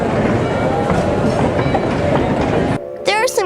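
A Durango train hauled by an original 1920s coal-fired steam locomotive rolls along the Animas River, a steady loud rumble with clattering wheels, then a sudden drop near the end as a bright squeal rises.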